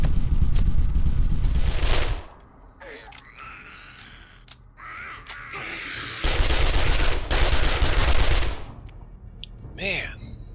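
Gunfire in the zombie survival game 7 Days to Die, loud bursts of rapid shots in two long stretches with a quieter gap between, ending in a few scattered shots.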